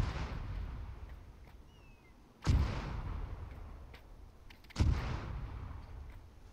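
Artillery shells fired in a military video game at an emplacement, two heavy booming blasts a couple of seconds apart, each fading out into a low rumble.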